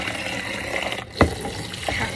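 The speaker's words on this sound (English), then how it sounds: "I have to rinse out the thing I'm putting it in each time." Dyed cotton yarn is sloshed and rinsed in a bowl of water, giving a continuous wet swishing with one sharper splash near the middle, close and moderately loud, with no voices.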